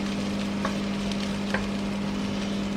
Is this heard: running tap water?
no